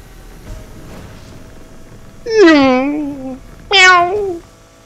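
A cat in a car in the racing game Need for Speed Unbound gives two drawn-out, nearby meows, the second shorter, over quiet background noise.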